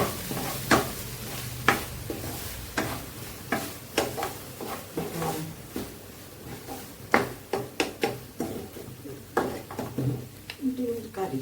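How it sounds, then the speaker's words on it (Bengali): Egg and potato curry simmers and fries on low heat while being stirred, with repeated scraping knocks of a spoon against the pan over a soft sizzle. A person talks through it. "আমি এটা চুলার আঁচটা একদম লো হিটে রেখে কষিয়ে নিব আর একটু"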